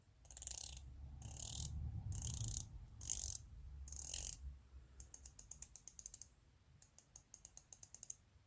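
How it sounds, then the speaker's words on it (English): Someone turns the thick 120-click unidirectional bezel of a San Martin SN079 Sumo-homage dive watch up close. Louder rustling handling comes first, then quick runs of crisp, slightly muted ratcheting clicks in short bursts. "it's a 120 click unidirectional bezel. Let's give it a turn."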